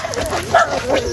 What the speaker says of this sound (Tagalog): Aso.